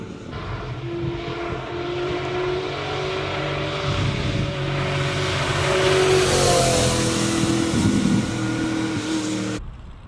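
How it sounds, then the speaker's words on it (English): A classic Porsche 911 Turbo launches at a Cape Town hill climb, its engine note rising and climbing steadily, loud and continuous, with a slight hesitation off the start. "Such an iconic 911 turbo. Hesitates ever so slightly off the start."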